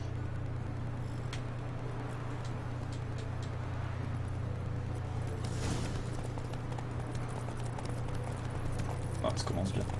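A horse in The Witcher 3 video game trots with steady clip-clopping hooves, moderately loud, beneath a low constant hum and intermittent conversation.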